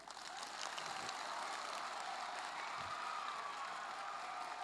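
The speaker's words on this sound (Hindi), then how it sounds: "तो क्या आप स्वामी धर्मबंधु के लिए एक बार ताली बजा सकते हैं?" Audience at a leadership development camp applauding for Swami Dharmabandhu, a steady, fairly faint wash of clapping that lasts throughout.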